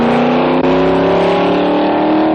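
Engine of the McGee Roadster, a 1932 Ford deuce hot rod, roaring loud and close in a steady rising rev, with no voices.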